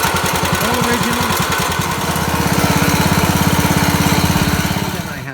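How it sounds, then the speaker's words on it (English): An original 7 horsepower Kohler engine runs steadily close by, a loud rhythmic chugging with a fast even firing pulse that holds throughout before cutting off abruptly at the end. "7 horsepower Kohler engine."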